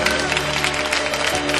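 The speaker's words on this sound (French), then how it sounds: "On applaudit maintenant." A church congregation breaks into applause, a short burst of dense, loud clapping mixed with voices.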